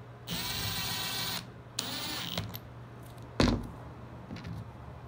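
A power driver whirs in bursts as marine-grade stainless screws are driven into a boat's rub rail, with two sustained buzzing runs, a shorter burst and a sharp clunk, close and fairly quiet.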